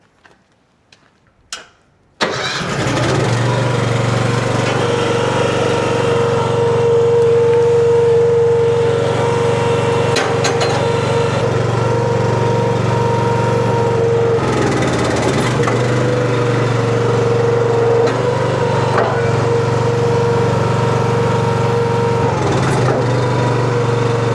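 Small gas engine on a new log splitter starts after a couple of brief pulls and then runs steadily and loudly at close range, a constant droning hum with a mechanical ticking rhythm and no talking over it.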